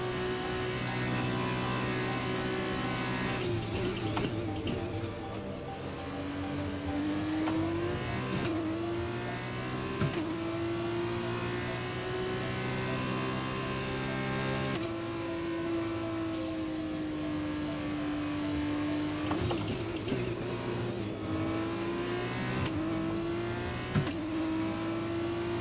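Formula 1 car engine in the F1 2021 racing game revving hard and steadily, its pitch climbing and falling through gear changes over about 25 seconds, loud and continuous with no talk.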